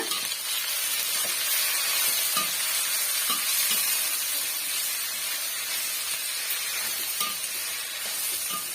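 Chutney ingredients with tamarind and salt sauté in a pan, a dense, constant hiss of frying running throughout with occasional soft clinks and scrapes of stirring, close and steady with no voices.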